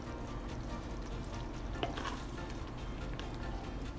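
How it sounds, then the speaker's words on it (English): Meat sauce with wilting greens cooks in a pot, making a soft, quiet sizzle and bubbling with a light stir partway through, no voices. "So now I'm just gonna let it simmer for the whole day"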